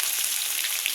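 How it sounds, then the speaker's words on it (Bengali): Whole spices (bay leaf, cumin seeds, garam masala and dried red chillies) hitting hot oil left from frying potatoes, giving a steady, close, bright sizzle that holds evenly throughout with small crackling pops and no voices. "আলু ভাজা তেলে তেজপাতা, জিরে, গরম মশলা, শুকনো লঙ্কা ফোড়ন দেবো।"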